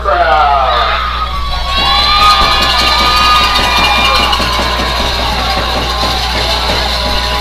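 A high school football crowd cheers and yells in a loud, sustained roar, with shrill shouts and whoops rising over the rumble while a commentator talks over it.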